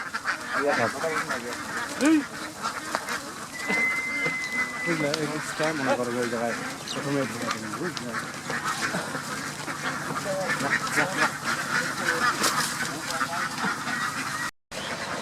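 Ducks on a duck farm give repeated nasal quacks and honks, some close and some farther off, under someone talking steadily.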